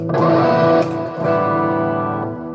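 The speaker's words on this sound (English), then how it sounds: "Debraz, do you like distortion or clean?" An electric guitar plays sustained chords through heavy distortion, loud and buzzing, with a brief change in the middle before ringing on.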